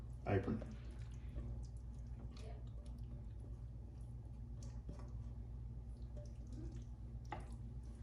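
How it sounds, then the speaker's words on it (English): A tortellini and beef mixture is poured into a greased baking dish, giving soft wet squishes and drips at a low level in a quiet kitchen. "I'm going to put this mixture over in the dish"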